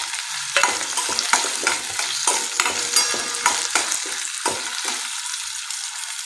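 Sliced capsicum and onions stir-frying in a hot pan for dry cabbage manchurian, a steady sizzle broken by repeated scraping stirs of the spatula, close and fairly loud with no talking.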